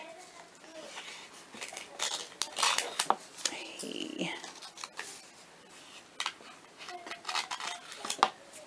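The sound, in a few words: scissors cutting paper words for cut and paste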